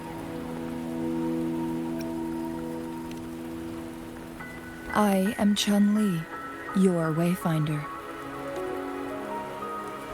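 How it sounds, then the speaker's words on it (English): Rain patters steadily in the video game Wuthering Waves, a soft continuous wash behind the game's music. A character speaks partway through. "Don't worry, the rain won't last much longer."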